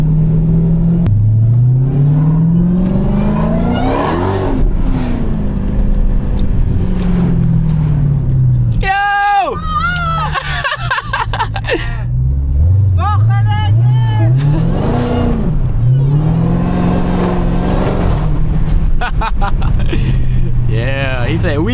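A Dodge Hellcat accelerates repeatedly, its engine note rising and falling through loud revving sweeps topped by a high supercharger whine, close and dominant, with voices heard alongside.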